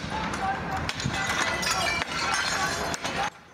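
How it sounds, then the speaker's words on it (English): Windows at a Jewish restaurant in Amsterdam are smashed by a man, with repeated shattering glass and crashing blows amid loud street commotion and shouting voices. "A man with a Palestinian flag smashing windows at a Jewish restaurant in Amsterdam."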